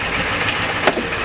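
A Ford 7.3L diesel pickup engine runs steadily up close after a cold start, a continuous rough idle with a high whine from a bad belt and a brief louder knock partway through.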